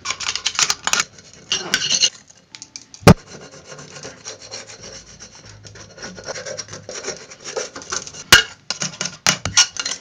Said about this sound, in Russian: И наждачкой также его дальше потерли.